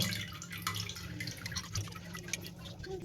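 Tirunelveli halwa mixture is strained a second time into another bowl, giving a faint, steady trickle and drip of thick liquid over a low background hum.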